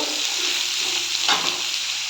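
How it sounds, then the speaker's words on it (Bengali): Pumpkin and potato frying with browned onions in a pan, a steady close sizzle with faint stirring scrapes and a brief louder burst midway, no talking. "এবার আমি কুমড়ো, আলু এর মধ্যে দিয়ে দেব, দিয়ে এটাকে ভালো করে ভাজা করে নেব।"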